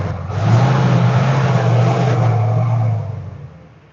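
A 19-year-old box truck engine idles and revs loudly up close, a steady low rumble swelling for several seconds before easing back down.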